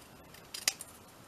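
Scissors snip briefly while trimming paper around a sticker, a couple of quick close cuts in an otherwise quiet moment.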